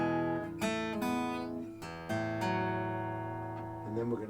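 Acoustic guitar plays a chord progression in standard tuning around E, with fingerpicked thumb and finger notes and ringing chord strikes coming every half second or so, close and fairly soft, with no voice over it.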